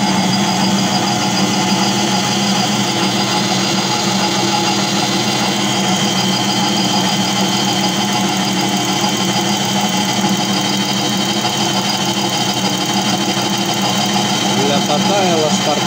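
A homemade belt grinder runs on rollers made from washing machine bearings, giving a steady, loud mechanical whir and hum that holds without a break under a continuous noisy drone.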